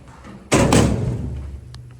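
Lightweight doors on a tall Tejas traction freight elevator in a university drama building slide shut with one loud, close bang, followed by a short ringing rumble that fades out.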